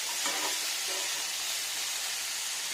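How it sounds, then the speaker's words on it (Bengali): Chopped onion sizzles steadily in a hot pan as the base for a young jackfruit curry, a close, constant hiss with a few faint stirring touches near the start. "এবার ভালো করে ভেজে নিই পেঁয়াজটা দিয়ে"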